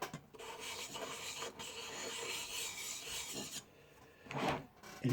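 A hand plane cutting iron rubbed back and forth on a coarse diamond lapping plate, a steady close gritty rasping scrape with brief pauses where the stroke reverses.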